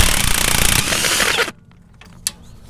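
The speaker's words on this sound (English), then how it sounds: "now I'm going to see if I could spin this 19mm nut off" Impact gun spinning a 19mm shock nut off a Toyota FJ80 Land Cruiser, a loud close rattling burst of hammering for about a second and a half, then a near-silent pause with a single small clink.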